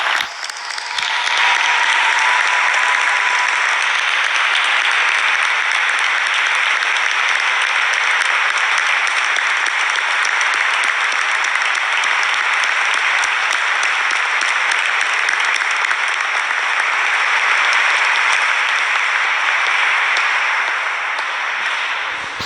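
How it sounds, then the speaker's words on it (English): Dense, sustained applause from a large graduation audience at the University of Winchester, thanking university staff; loud and steady from start to finish. "please could you give a huge round of applause for the university staff"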